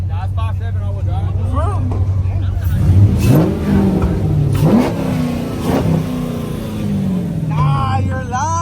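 A car with a 5.7-litre engine revs at a busy car meet, a loud steady low engine drone with rising rev swells, heard close under frequent talk and crowd chatter.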